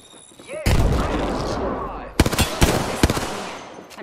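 Close, loud gunfire in the Apex Legends video game: a sustained roaring blast gives way to a quick series of sharp, separate shots, with faint voice snippets mixed in.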